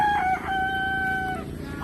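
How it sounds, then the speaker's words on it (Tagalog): A rooster crows close by in one long drawn-out call with a rising start and sustained tone, over a steady low background rumble, with no talking. "May Manok."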